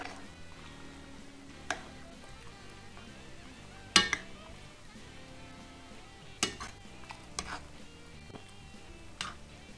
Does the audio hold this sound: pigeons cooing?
no